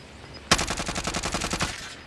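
Rapid automatic gunfire from a shooter game erupts suddenly as a loud, evenly paced burst of about a dozen shots lasting over a second, with no talking.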